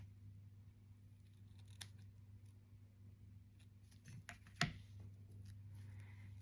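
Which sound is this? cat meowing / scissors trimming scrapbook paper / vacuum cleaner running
scissors trimming scrapbook paper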